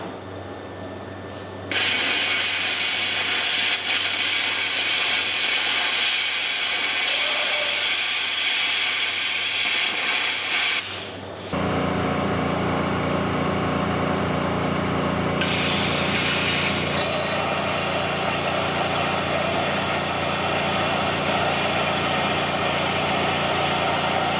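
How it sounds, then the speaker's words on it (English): A Cutmaster 40 plasma cutter slicing through metal, producing a loud, steady broadband hiss that switches on abruptly, shifts in tone partway through, and runs over a low mechanical hum. "we're gonna break out the plasma cutter for this, see how that goes. I've got the Cutmaster 40."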